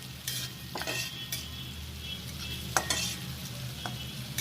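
Curry leaves and green chillies sautéing in a pan: steady close sizzling and frying, broken by several sharp clinks and scrapes of a spoon stirring against the pan, no talking.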